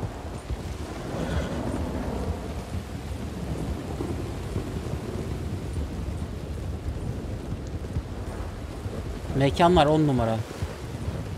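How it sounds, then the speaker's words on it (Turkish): Heavy in-game thunderstorm in Red Dead Redemption 2, with wind and rain buffeting a horse outdoors: a steady roar of rain and gusts with rolling rumbles throughout, and someone briefly speaking near the end. "Oo, fırtınaya bak, atı sağa sağa sürüklüyor gençler, görüyor musunuz?"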